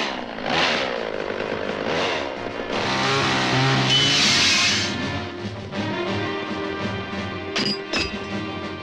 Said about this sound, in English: we have Ash finally building his super awesome chainsaw hand replacement